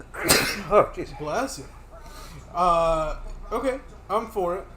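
A sharp sneeze bursts out near the start, followed by casual male chatter among friends watching a UFC fight night at home.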